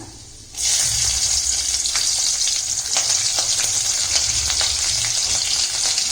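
Chana dal, urad dal and green chillies fry in hot oil for a tomato and lemon sevai, giving a steady close sizzle with scattered crackling pops that starts abruptly and continues without talk.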